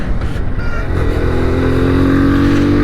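Kawasaki 125 Pro motorcycle (2020) held at full throttle, its engine note loud and close, with a steady rising whine that climbs and sustains for nearly three seconds.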